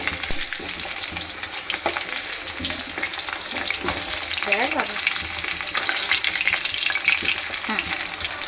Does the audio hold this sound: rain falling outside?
no